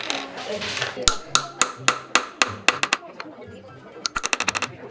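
A small hammer strikes a metal ring again and again during friendship ring making, sounding as sharp, loud, close metallic taps in quick rhythmic bursts with brief pauses between runs.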